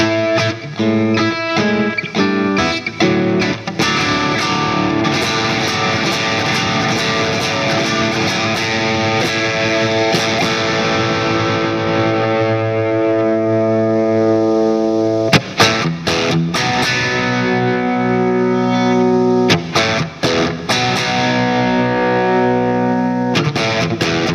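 Squier Classic Vibe Telecaster electric guitar played through a Boss distortion pedal, loud saturated chords and sustained notes ringing continuously with sharp strummed attacks, alone without talk.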